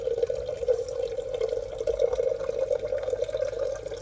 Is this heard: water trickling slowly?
yes